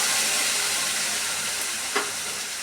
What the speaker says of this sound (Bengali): পেঁয়াজের পেস্টটা ভালো করে নাড়াচাড়া করে নিয়ে ভেজে নেব